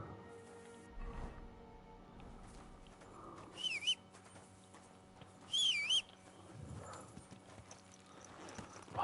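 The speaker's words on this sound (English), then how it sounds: "I'm on a horse, keep me on the horse" Steady horse hooves clip-clop along at a walking pace in Kingdom Come: Deliverance II, with a couple of short bright chirps and a brief whinny-like burst in between.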